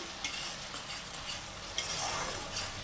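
Masala is stir-fried in a pan with a spatula, with a constant sizzling hiss, a few sharp scrapes and clinks, and no talk.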